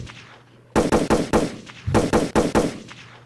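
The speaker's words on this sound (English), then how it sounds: "Shots have been fired." Gunshot sound effect: two quick bursts of about five sharp, loud shots each, separated by a short pause, standing out alone over a faint background hum.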